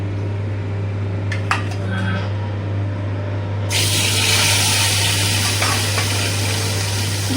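Rohu fish pieces dropped into a small amount of smoking-hot oil, two at a time: a few light clinks and scrapes, then a loud, steady broadband sizzle that starts midway and holds, over a low constant hum.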